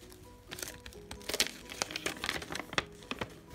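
A magazine's bonus gift package, a wireless phone charger, is unwrapped at close range, giving bursts of crisp crinkling and rustling plastic and paper with a few sharper tearing crackles. No one speaks.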